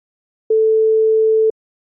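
A single pure sine tone holds steady at one pitch for about a second, starting and stopping abruptly, loud and clean with silence on either side.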